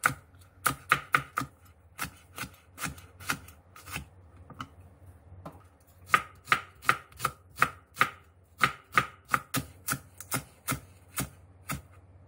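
A knife on a cutting board slicing a quarter onion, cheongyang chili peppers, red chili and green onion, with crisp, close, steady chops in quick irregular runs and short pauses between them.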